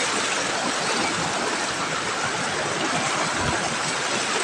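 A jungle stream swollen with rainwater rushing steadily over rocks, a loud, unbroken close-up roar with no voices over it.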